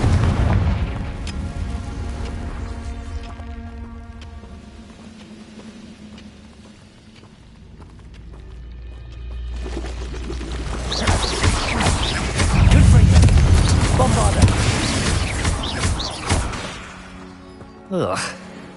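A fiery blast spell exploding in Hogwarts Legacy, deep booming rumbles that build into a loud, sustained roar of bursts and crashes, with a voice shouting over the blasts.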